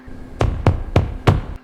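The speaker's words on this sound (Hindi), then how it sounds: "कोई दरवाजे के अंदर से ही खटखटा रहा था।" Four evenly spaced knocks on a door, sharp and fairly close, from inside a room in a horror setting, with a faint steady hum underneath and no voices.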